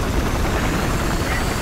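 A helicopter in the Battlefield Hardline video game roars loudly and steadily as a dense, close wash of rotor and engine noise, with no talk audible over it.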